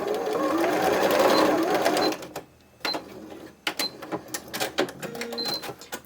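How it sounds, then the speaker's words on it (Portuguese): A sewing machine stitches fabric for a toy bunny's ear and head: a fast, steady mechanical whirr at first, a brief pause, then short, choppy bursts of stitching that start and stop up close. "Vou costurar esse pedacinho desse meio."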